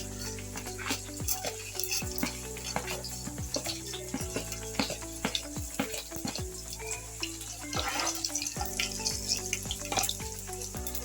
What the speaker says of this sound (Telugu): కొంచెము వేగనిద్దాం మెంతులు. ఇప్పుడు ఏం చేద్దాము, మినపప్పు, శనగపప్పు, జీలకర్ర, ఆవాలు ఇవి వేసేద్దాం.